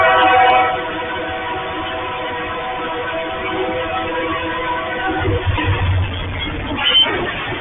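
A train at a railway crossing in downtown Paraíba do Sul, Brazil, sounds a long sustained horn while rolling past, with a loud rumbling impact-like surge and scraping noise toward the end as it strikes a car.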